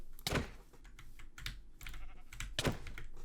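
Sheep in the Minecraft video game bleat in a few short, quiet bursts, mixed with sharp computer keyboard clicks.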